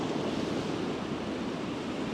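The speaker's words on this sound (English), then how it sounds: "here comes the water" Incoming tide water washes between coastal rocks on the Oregon coast near Cannon Beach, a steady, close rush of surf with wind noise and no voices.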